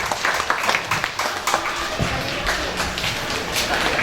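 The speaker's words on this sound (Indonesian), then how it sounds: "Tepuk tangan untuk Mas Anas dan Mas Yusuf" An audience at a Quran khataman and imtihan celebration gives a short burst of dense hand clapping, a lively patter of many hands that carries on steadily to the end.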